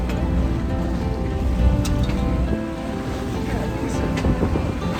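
A sailboat under mainsail on the Great Lakes with decent wind, giving steady wind rush and water sloshing against the hull in 3-foot swells, while people talk nearby.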